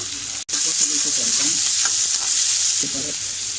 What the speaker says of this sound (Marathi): हा कांदा एकदम छान असा लालसर रंगावर परतून घ्यायचा आहे